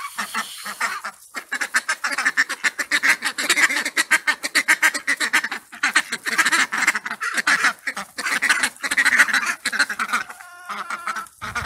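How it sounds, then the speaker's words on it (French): Ducks in a permaculture vegetable garden quack loudly and continuously in a dense, overlapping chorus, with brief pauses before the racket resumes close by. "Il y a une manifestation de canards là."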